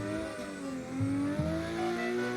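A drifting car held on throttle while going backwards toward a tire wall at night, engine revving high and steady with rising and falling pitch, fairly near and continuous with no talk.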